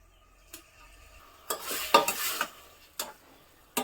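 A spoon scrapes and clinks around a pot of mutton sambar as salt is mixed in, giving a few sharp knocks and a brief busy stretch of stirring over a quiet background.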